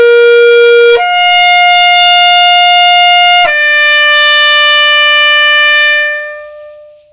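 Saxophone imitating a dark, old-school clarinet with strong, straight air pressure, several sustained tones stepping upward, loud and close, with no talking.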